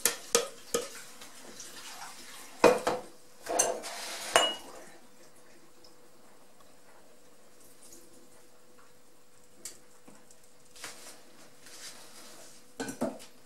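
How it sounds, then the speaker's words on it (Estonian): Flour and dry ingredients for lemon muffins are mixed in a bowl, with a few sharp clinks and scrapes of utensil against the bowl early on, then quiet stretches and light taps toward the end. "Siin ma segan kuivainet"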